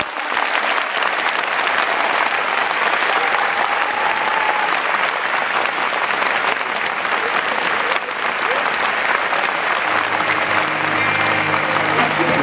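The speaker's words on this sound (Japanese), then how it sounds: "中島選手にもう一度拍手よろしくお願いします。" A large crowd at a retirement ceremony for a Hokkaido Nippon-Ham Fighters catcher applauds loudly and continuously, with faint voices mixed into the dense clapping.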